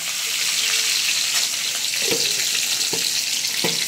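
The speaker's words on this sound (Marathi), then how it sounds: "तिकडं हो तेल उडत अंगावर" Onions fry in hot oil, giving a loud, steady hiss and sizzle with a few sharp crackles of spattering oil close by.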